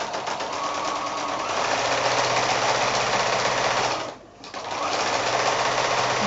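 A sewing machine quilting an applique block runs in a loud, steady rapid stitching rattle, pausing briefly for a moment before resuming at the same pace.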